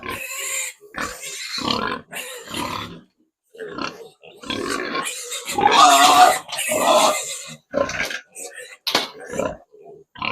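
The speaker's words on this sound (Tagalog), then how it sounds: "Pasaway itong baboy na to." A pig grunts in its pen, with a run of close, fairly loud grunts and snorts in irregular bursts separated by short pauses.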